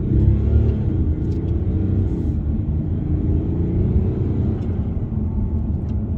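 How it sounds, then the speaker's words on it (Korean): Mercedes-Benz CLS 400d diesel accelerating on a quiet road in comfort mode, a steady low engine and road rumble heard from inside the car, loud and continuous. "CLS는 그냥 밟으면 바로 즉각적인 반응이 옵니다."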